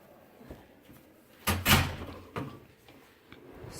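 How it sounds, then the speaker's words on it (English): A door swings shut with a solid thud followed by a quick second knock, then faint clicks in a quiet room, with no talking. "I'm going to close this door here just for a moment."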